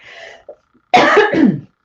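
A person coughs once, a loud rough burst near the microphone lasting under a second, following a faint low throat sound and a short pause, with no talking over it.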